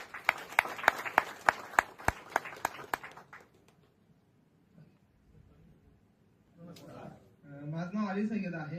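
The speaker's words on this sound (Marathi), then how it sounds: "जोरदार टाळ्या." A short burst of applause rings out at a gathering as a guest is invited forward, sharp claps for about three seconds before fading, followed by near silence and then someone speaking.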